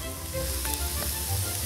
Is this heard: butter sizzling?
yes